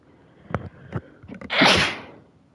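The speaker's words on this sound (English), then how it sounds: "Oh, my bad. I sneezed." A single loud, close sneeze bursts out alone after a few short mouth and breath sounds, with a sharp noisy blast that fades over about a second.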